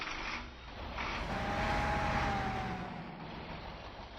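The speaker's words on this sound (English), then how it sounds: "That was a weird sounding truck." A fuel truck engine in the off-road game Spin Tires runs at a low, steady drone with a faint rising whine, moderately quiet and unbroken, with no talk over it.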